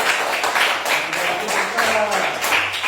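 Students clapping together in a classroom after a robot-programming lesson, a steady patter of many hands lasting a few seconds with a voice faintly underneath.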